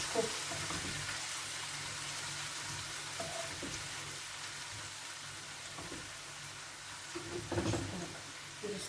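Eggplant, peppers and onion frying in a pan, a steady broadband sizzle running throughout with occasional stirring clatters and a louder scrape near the end.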